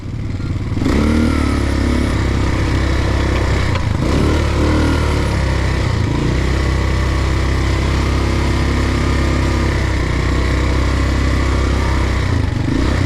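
A running ATV engine starts up and settles into a loud, steady idle close by, with a constant buzzing drone and a few small rises in pitch.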